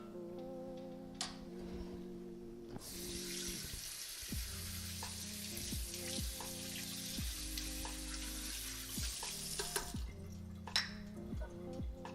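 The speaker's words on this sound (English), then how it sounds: "this roux can burn pretty easily, so you want to make sure you're stirring it like pretty often" Flour-and-fat roux stirred and toasted in a pan, giving a steady sizzling hiss with faint scraping over quiet background music.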